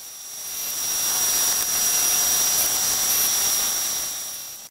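A machine tool cuts a quick 0.5mm chamfer on a steel multi vice end stop, giving a steady, loud, high-pitched whine with a constant hiss that holds evenly for several seconds, then stops abruptly.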